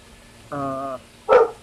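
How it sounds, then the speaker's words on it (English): Dogs barking near a backyard pond: a sustained harmonic bark or howl, then a short sharp bark a moment later, close and fairly loud. "Can you hear my dogs barking?"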